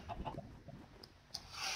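A chicken in the Minecraft video game gives a couple of faint, short clucks, with a brief sharper call partway through.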